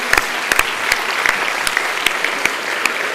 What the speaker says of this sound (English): I think you all deserve to give each other a round of applause because you've done brilliantly.